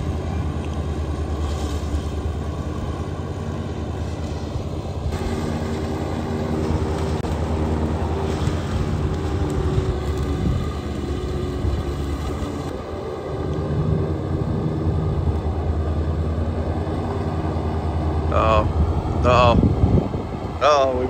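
A farm tractor drives on a hillside, its engine a steady low drone with a mechanical whine on top. People talk over it, and a few sharp rattles and bangs come near the end.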